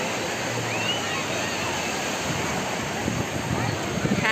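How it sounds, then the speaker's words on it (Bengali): Sea waves on Digha beach wash in a constant broad rush mixed with wind noise, while a crowd murmurs faintly in the background. "কত দূর অব্দি ঢেউ আছে,"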